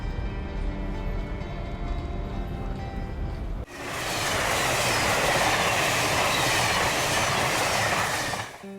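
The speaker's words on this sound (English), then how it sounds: "we ride the trains between locations" An Amtrak passenger train rolls along the rails with a steady, loud broadband rumble and clatter, quieter at first and then swelling sharply into a close, roaring pass that fades slightly at the end.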